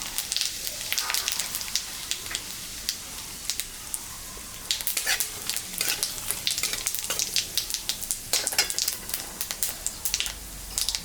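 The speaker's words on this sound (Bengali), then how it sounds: "জিরা, শুকনো লঙ্কা, সম্বরা দেব।" Cumin seeds and dried red chillies crackle and spit in hot oil left over from frying fish, a dense sizzle with sharp pops and bursts of spattering throughout.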